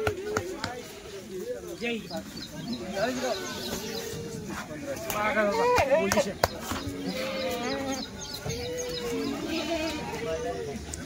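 Hungry Kathiawadi goats bleat over and over in wavering, overlapping calls at a goat market, near and steady, mixed with people talking and occasional sharp knocks.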